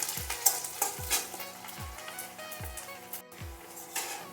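Garlic frying lightly in oil with dried red chilli, a close crackling sizzle with low thumping stirs roughly every second and a brief pause near the end; no one speaks.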